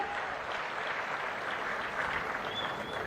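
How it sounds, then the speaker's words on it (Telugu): Steady, fairly distant applause from a large audience at a gathering with Chief Minister Chandrababu Naidu, an even wash of clapping that holds throughout with little voice above it. "గట్టిగా చప్పట్లు కొట్టి అభినందించండి."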